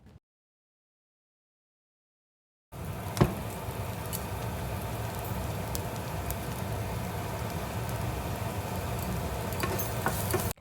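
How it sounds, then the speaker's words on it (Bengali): Ground spices such as turmeric, cumin, coriander and chili powder frying in a pan, a steady close sizzle and crackle that starts abruptly after a short silence and continues evenly, with faint stirring ticks. "মশলা তো ফ্রাই হয়ে গেছে সবগুলোই"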